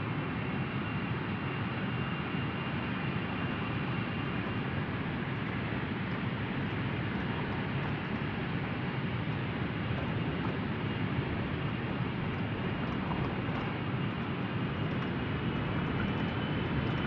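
Boeing 777-300ER airliner engines at takeoff thrust, a loud, steady, broadband roar heard from inside the cabin that holds unbroken throughout, with no talk.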